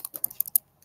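Fingers typing on a Chromebook keyboard: about seven quick, crisp key clicks in a rapid irregular burst, close and clear, then a brief pause and one faint final tap, with no voices.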